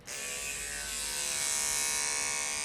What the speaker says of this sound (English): I like to use my Andis clippers.